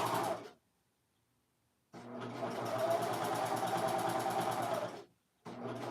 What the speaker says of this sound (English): I am serging the pockets so that way we can have a clean finish